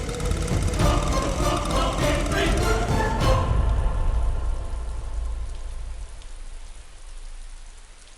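Steady rain falls loudly for the first few seconds, then thins to a softer patter that continues alone to the end.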